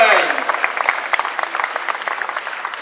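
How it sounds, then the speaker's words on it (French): An audience claps for a cosplay contestant dressed as Belle from Once Upon a Time at a Japan Expo cosplay competition. Dense applause starts loud and steady, then gradually thins and softens over a few seconds. "On applaudit très fort la participante des 3"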